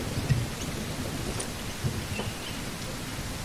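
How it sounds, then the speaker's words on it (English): Steady video game rain patters and hisses without pause, with a couple of soft low thumps mixed in. "Now it's raining"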